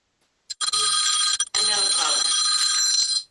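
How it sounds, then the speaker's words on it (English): An incoming call rings on a telephone: two loud, bright electronic ringing bursts separated by a short gap, close by and filling the clip. "Somebody's getting a phone call."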